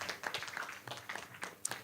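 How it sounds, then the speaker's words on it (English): Workshop audience applauding at a start-up community event, a spread of scattered hand claps at moderate distance with no talk over it. "One more big round of applause"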